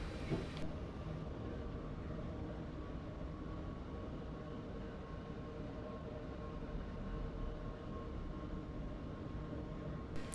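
A train in Train Simulator 2015 climbs a steep 1-in-28 gradient on the West Croydon to London Bridge route, giving a continuous, even rumble of engine and wheels that runs unbroken throughout, with no voices.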